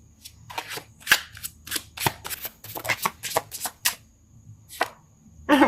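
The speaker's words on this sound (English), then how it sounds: "That was just me not able to shuffle. So let's try it again." Tarot cards being shuffled by hand, a series of crisp riffling bursts and slaps at close range, irregular and uneven with short pauses, ending in a louder flurry, no talking.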